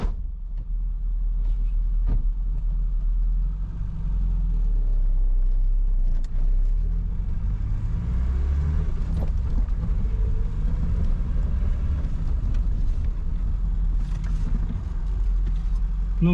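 A ZAZ Tavria with a replacement engine and failing brakes drives along, its engine a steady low rumble throughout, with faint voices in the cabin at times.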